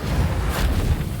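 The Reparo repair spell is cast in Hogwarts Legacy, producing a loud, dense rumbling whoosh that holds steady for just over a second.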